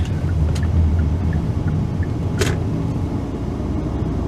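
Car circling a traffic roundabout, a steady close engine and road rumble with a couple of faint clicks and a brief higher whoosh partway through, no voices.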